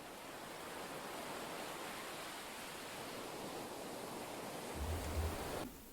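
Steady broadband wash of ocean surf on a video game shoreline, a continuous loud rushing roar with no distinct wave breaks, swelling slightly near the end before cutting off abruptly.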